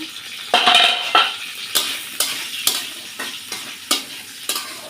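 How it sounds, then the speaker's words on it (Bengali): Potatoes fry in a pan with a steady background sizzle while a utensil scrapes and stirs about eight times in an uneven rhythm. The sound is close up, with no talking. "আলুটা বেশ ভাজা হয়েছে।"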